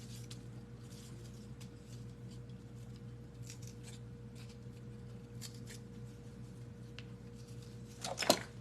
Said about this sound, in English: That one just needs to be cut a little more.